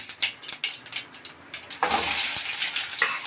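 A few light clicks and taps, then chopped onions hit hot oil with a sudden loud sizzle that keeps crackling steadily.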